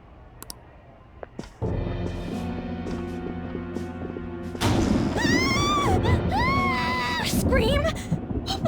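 Game audio from Persona 5 Royal carries a scream from inside a house: a sudden, loud burst of voices and crashing over background music, with characters talking around it.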